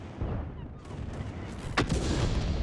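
An artillery piece fires in World of Tanks, a sharp, fairly distant crack with a short rumbling tail landing midway through low, steady game ambience.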